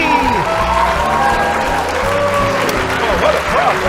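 An audience bursts into sustained applause for the hosts of a live stage show, dense steady clapping with a voice speaking over it.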